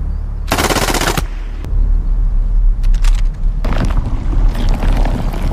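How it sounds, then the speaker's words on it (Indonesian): Loud bursts of machine-gun fire as soldiers in a film shoot at a purple alien sphere, a dense rapid burst early on followed by more ragged volleys and booming rumble. "Komandan divisi bernama Cho Yong-sik menembak ke arah bola"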